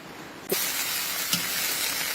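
Water mimosa stir-fried with oyster sauce in a pan bursts into a sudden loud, steady hiss of sizzling, with a couple of quick clanks of the utensil as it is tossed.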